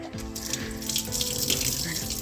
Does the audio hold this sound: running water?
yes